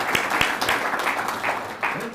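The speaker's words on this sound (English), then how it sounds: "So big round of applause to our Public Works Director." Civic audience at a city's State of the City address clapping for the Public Works Director, a short burst of scattered hand claps in a hall with crowd murmur mixed in.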